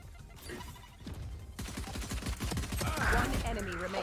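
Gunfire in Valorant: rapid bursts of shots in quick succession, loud and layered over game effects, with a voice briefly audible in the mix.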